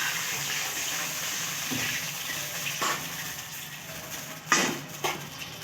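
Water poured into a pan of onions fried red for biryani, a steady hissing, running pour with a few clinks of utensils, close and fairly loud.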